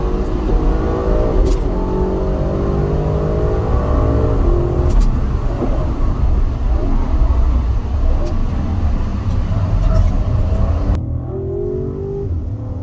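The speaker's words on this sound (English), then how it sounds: "I want you to be able to hear how good this factory sport exhaust sounds" Audi RS6 with factory sport exhaust lapping Atlanta Motorsports Park, a loud close engine note rising and falling as the car accelerates and shifts, with a steady roar that drops away sharply near the end.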